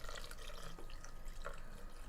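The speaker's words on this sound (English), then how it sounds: "Maybe just a little water." Water poured into a blender, a faint steady trickle and splash running throughout, close and quiet.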